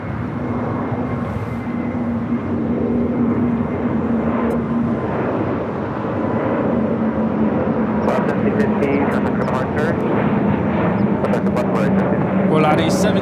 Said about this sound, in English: Volaris 1715 taking off to Guadalajara on the A320neo in the Wicked livery.